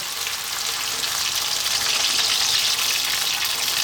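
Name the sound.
water added to beef sizzling in a hot pan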